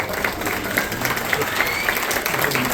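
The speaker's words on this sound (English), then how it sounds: "Let's have another round of applause." A crowd applauds with sustained, even clapping that holds steady from start to finish, with faint voices mixed in.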